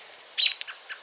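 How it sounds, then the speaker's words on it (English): A robin up in a tree gives a short, bright chirp followed by a few faint, scattered tweets. The calls are thin and high, with no voices. "There she is, right up there, chirping at me."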